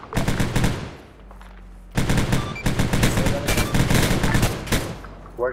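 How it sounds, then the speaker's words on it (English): Rapid automatic gunfire in the military shooter game Arma 3, loud sustained bursts broken by a brief pause. "Where's enemy fire from?"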